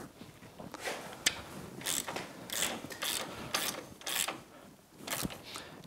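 Castle nut on a Yamaha YXZ1000R axle being tightened by hand with a ratchet during CV boot replacement, giving repeated close clicking ratchet bursts and short metallic scrapes with pauses between strokes.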